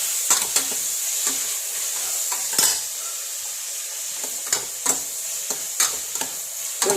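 Chicken fries in a pan with a constant soft sizzle, broken by repeated sharp scrapes and clinks as it is stirred, several in quick bursts, with no talking.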